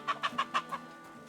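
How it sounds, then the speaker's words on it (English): A chicken clucks in Kingdom Come Deliverance 2, a quick run of four or five sharp clucks at moderate distance, fading into quiet game ambience. "Gotta be a nut down here. Chicken."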